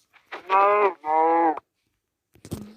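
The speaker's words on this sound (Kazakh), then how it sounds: "Мұнда сиыр жүр екен." Cow in the Minecraft video game, two drawn-out moos one right after the other, loud and clear, then silence and a short burst of game noise.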